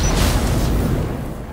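Explosion in the first-person shooter XDefiant, a loud deep boom at the start that rolls into a broad rumbling tail and slowly fades, with no voices.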